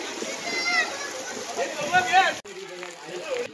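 Fast-flowing floodwater rushes through a village after heavy May rain, a continuous splashing torrent while village children play in it, with someone talking and children's voices over the water; the sound cuts briefly near the end.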